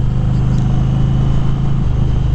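A 2020 Indian Challenger motorcycle engine answers the throttle in standard mode, a close, steady mid-pitched rumble that swells slightly before easing off near the end.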